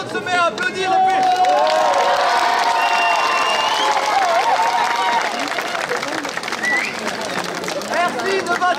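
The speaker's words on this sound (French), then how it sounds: "Alors normalement, tout le monde se met à applaudir" An outdoor crowd at a medieval festival in Sézanne claps and cheers ahead of a fire show, a dense, steady wash of applause and shouts with crowd babble, fading slightly toward the end.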